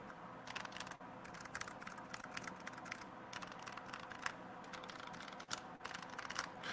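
Rapid clacking keystrokes from a mechanical keyboard with optical switches, typed in quick bursts with brief pauses, close and fairly loud with no voices.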